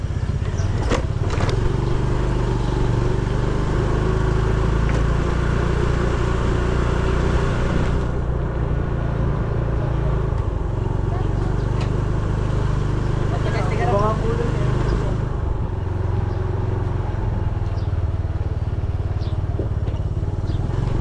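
A motorcycle engine runs steadily and close by for the whole stretch, a constant low rumble with a brief rise midway, while people talk over it.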